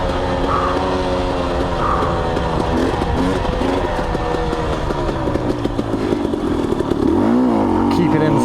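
A motorcycle engine pulls hard in second gear with the clutch feathered, its drone rising and falling in pitch as it accelerates, loud and close throughout, with wind-like roar over it and no talk.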